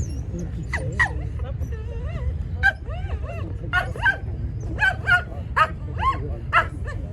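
A small dog yips and barks repeatedly at close range during a dog skills demonstration, in bursts with brief whimpers between, over a low rumbling background.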